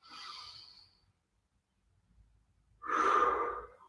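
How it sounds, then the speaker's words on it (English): A person draws a long, breathy inhale through the nose, pauses, then lets out a fuller, louder exhale during a morning mobility session, close and quiet. "So try and take the air in through your nose for 3 to 4 seconds. You fill and then just let it go."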